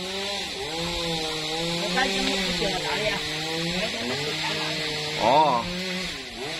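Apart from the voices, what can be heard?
chainsaw cutting a jackfruit tree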